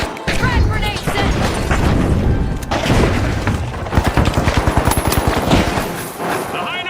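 In The Finals, a frag grenade is set amid heavy gunfire: dense, loud shooting throughout, with a stretch of rapid, evenly spaced automatic bursts near the end.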